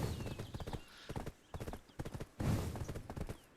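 A grade 5 horse gallops in the video game Black Desert, making rapid, rhythmic clip-clop hoofbeats in steady bursts with short pauses between them.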